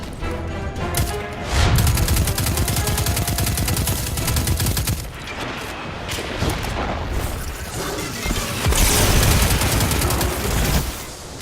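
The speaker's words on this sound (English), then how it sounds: "Or you blow them up with grenades like that" Grenade blasts and rapid gunfire in a Destiny 2 PC beta strike, loud bursts of automatic fire broken by heavy booms, with a short lull near the middle before the shooting surges again.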